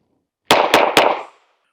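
Three sharp handgun shots, fired in quick succession at a range target, ring out loud and close, each with a short echoing tail, the three spread across about half a second.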